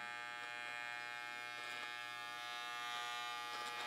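Wahl hair clippers buzz loudly and steadily at close range, a constant electric hum with slight wavering and no speech.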